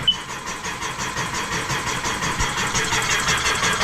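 Engine of a 2021 Sea-Doo RXTX personal watercraft cranking on a weak, low battery, a steady labored starter churn that holds near and fairly loud without catching.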